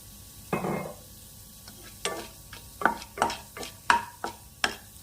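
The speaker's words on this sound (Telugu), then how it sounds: "ఇవి వేగుతున్నాయి." Chana dal and urad dal fry gently in a pan for gongura chutney, a soft sizzle under irregular spoon scrapes and clinks, close and fairly quiet with no talking.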